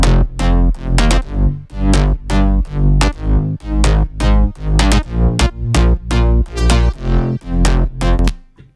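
Future house synth lead layered with bass plays a driving drop, loud rhythmic chord stabs pulsing in steady pumping bursts over a deep sustained low end, with no voices.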